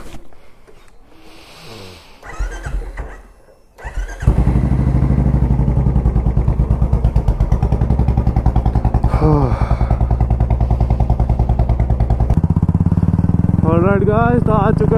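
Motorcycle cold-started on a chilly early morning before a Sunday ride: a few quiet seconds with brief clatter, then the engine catches and runs loud and steady with a pulsing idle, a voice speaking briefly over it.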